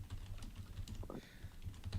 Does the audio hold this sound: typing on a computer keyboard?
yes